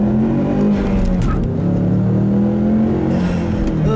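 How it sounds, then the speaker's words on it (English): A Ford Mustang accelerates hard, its engine droning in a loud sustained roar that climbs in pitch with a brief dip partway through, heard continuously for several seconds. "I'll leave you guys with a nice little acceleration here"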